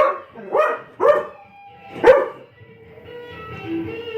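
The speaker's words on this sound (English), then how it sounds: "and Cash is their dog" A dog barks four times, loud and close, in a rough uneven rhythm, then lets out a softer drawn-out whine or whimper at the end, with no talk.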